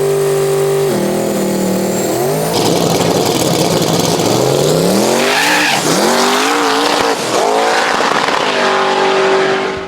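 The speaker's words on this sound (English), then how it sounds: "This is our Texas Speed burnout truck." Texas Speed burnout truck with its engine revving hard and tires squealing through a loud, sustained burnout, the engine note climbing and dropping repeatedly over roaring tire noise.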